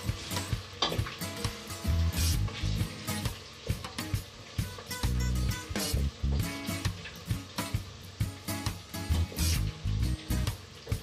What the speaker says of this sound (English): So I stir again.